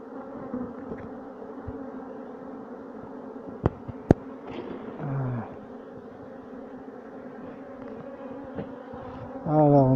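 Honeybees from a colony split off by division drone steadily over the hive frames, a dense, constant close buzz lasting throughout, with a few sharp clicks and a brief louder swell at the end.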